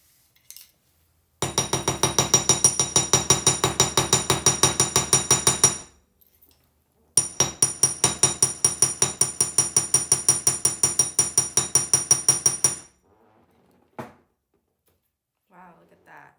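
Close, loud hammer blows striking natural brass wire in two long runs of rapid, evenly spaced metallic strikes with ringing overtones, a short pause between them and brief clinks before and after.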